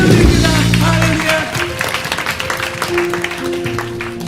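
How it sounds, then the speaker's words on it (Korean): A Sunday worship congregation claps together in a loud, dense wash of applause that continues for several seconds, with voices and music mixed underneath. "주님 영광의 박수 올려드립니다."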